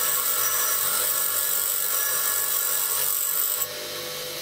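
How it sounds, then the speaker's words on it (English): A standard bench grinder grinds a steel reamer by hand, giving a steady, loud whirring hiss with a low motor hum that drops suddenly in level near the end. "I'm just using the standard bench grinder"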